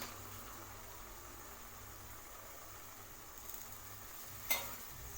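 Washed mutton keema goes into a tomato gravy in the pan, producing a quiet, steady sizzle and low frying hiss with one brief sharp clatter near the end.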